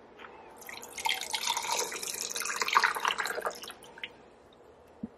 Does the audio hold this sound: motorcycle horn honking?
no